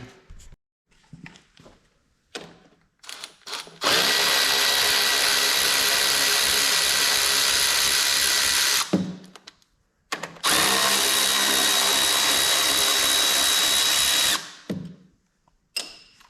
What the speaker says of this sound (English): Let's get a ratchet for those two.